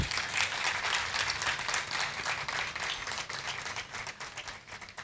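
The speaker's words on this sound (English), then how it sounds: "A huge round of applause for that." Audience applause at a time capsule interring event, a steady, dense wash of many hands clapping that holds fairly even for several seconds at moderate distance.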